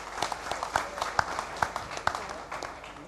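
An audience at a startup panel on building consumer companies in Israel gives a short burst of scattered clapping, fairly sparse and moderately distant, with a voice speaking over it.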